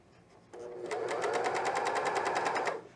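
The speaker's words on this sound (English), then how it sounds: "my cover stitch does really good over these things." A cover stitch sewing machine runs over elastic on women's underwear, starting abruptly and whirring at a fast, even stitch rhythm for about two seconds before stopping, close and clear with no voice over it.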